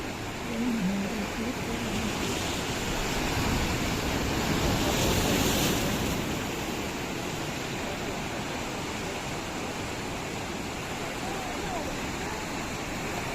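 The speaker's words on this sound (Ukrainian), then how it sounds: "А тут бушуючий океан." Ocean surf on Tenerife roars steadily with crashing waves and gusting wind buffeting the microphone, a broad continuous wash of noise.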